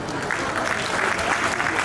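A comedy show audience at a Durga Puja festival gathering claps steadily, a dense, continuous burst of applause filling the short moment.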